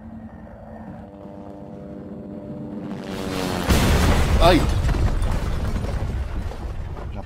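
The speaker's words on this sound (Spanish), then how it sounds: "se estrelló un helicóptero" A helicopter crash in the video game Resident Evil 2: a rising engine roar swells into a loud, rumbling explosion that lingers and fades, with a brief startled exclamation from a player.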